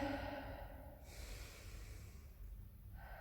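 Slow, deep breaths drawn in and let out during a stretching and balance exercise, close and steady with a soft airy hiss, no talk.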